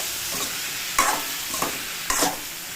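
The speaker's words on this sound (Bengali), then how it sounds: "দিয়ে দিয়েছি লবণ, পরিমাণ মতন হলুদ, নাড়াচাড়া করবো।" Greens frying in a pan with salt and turmeric, a soft continuous sizzle broken by three or four short scraping stirs of a spatula.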